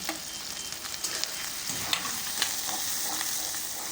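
Ginger and green chillies fry and are stirred in a pan, giving a constant crackling sizzle broken by occasional scraping clinks, with no voices.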